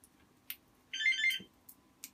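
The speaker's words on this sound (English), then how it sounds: "phone's ringing" A telephone rings in a quiet room, a short electronic trill repeating twice in quick succession at moderate volume, with faint clicks around it and no talk.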